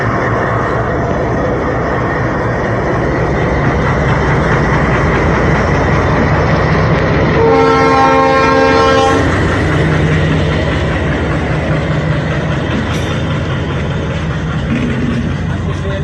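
A passenger train passes through a busy rural railway station in Bangladesh, its loud horn sounding for about two seconds midway over a steady rumble and clatter of wagons.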